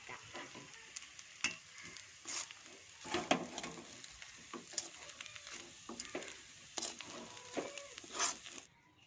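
Chicken with ground chutney paste being stirred and mixed into noodles in a pan, a soft sizzle under irregular scraping and clattering strokes, fairly quiet and close.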